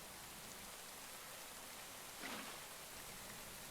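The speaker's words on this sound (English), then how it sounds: "it wouldn't be a Minecraft and relax video if it didn't rain" Steady rain in Minecraft hisses softly and evenly throughout, a faint continuous wash with one slightly louder swell near the middle and no voices.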